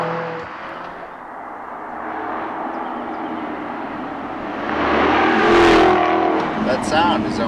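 A supercharged luxury sports car engine, one of a BMW M6, Jaguar XKR-S, Mercedes-Benz SL63 AMG or Porsche 911 Carrera S, roars steadily under acceleration and swells louder toward the end.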